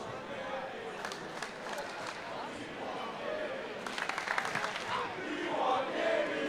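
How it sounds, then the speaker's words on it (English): A crowd at a St. Michael's high school basketball tournament game grows rowdy, with shouting, clapping and cheering swelling louder toward the end, fairly distant and under a commentator's voice. "You hear the crowd getting pretty riled up,"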